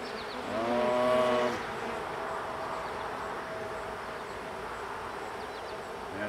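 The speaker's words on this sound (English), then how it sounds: "there's a big old drone bee right here" A large drone honey bee buzzes close by near a hive frame, its droning hum swelling loudly for about a second and then fading into a steady, softer buzz of many bees.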